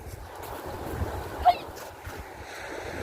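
Tyrrhenian Sea waves at a beach in Basilicata, Italy, a soft continuous wash of surf mixed with wind noise on the microphone, with one brief faint chirp in the middle.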